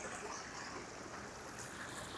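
Moving water of a stream current in Central Park in autumn, a soft, continuous babbling and rushing at low, steady volume with no other sounds standing out.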